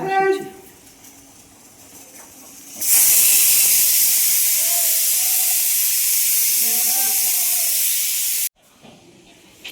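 A loud, steady steam hiss from a pressure cooker boiling potatoes and papaya bursts in and runs continuously for several seconds, then cuts off abruptly; a voice speaks faintly underneath.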